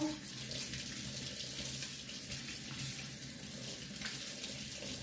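Tap water runs steadily as a Cattleya orchid is rinsed during repotting, a continuous soft hiss and splash throughout at moderate, close level.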